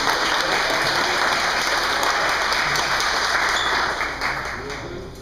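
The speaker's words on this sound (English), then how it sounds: "Please show applause for all of us." Sustained audience applause at a school board event fills the room loudly and evenly, tapering off toward the end.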